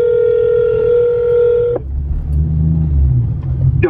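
A phone places a call during a Mustang and Corvette car meet, with a steady electronic dialing tone for almost two seconds. It cuts off into a low car engine rumble.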